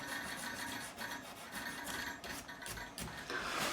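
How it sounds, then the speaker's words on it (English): A wooden knot on a Harley Benton RB-600 Rickenbacker-style bass body is smoothed by hand with 400 grit sandpaper, giving close, soft scratchy rubbing strokes in an uneven back-and-forth rhythm. "I'm going to slightly smooth over this knot anyway. Some 400 grit there."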